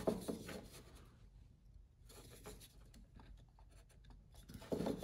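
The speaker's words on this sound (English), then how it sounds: "I'm going to carefully take my knife, and I want to make a cut here." Carving knife cutting into the bill of a carved wooden King Eider drake head, quiet close scraping and rasping strokes that continue through the stretch, slightly louder at the start and end.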